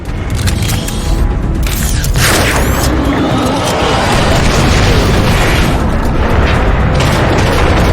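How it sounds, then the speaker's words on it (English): Warp cannon blasts pound the Ark in Transformers: Fall of Cybertron, heavy booming explosions with crashing debris rolling on continuously over eight seconds, loud and close. "Warp cannons. Megatron isn't holding back anything this time. It's targeting the Ark."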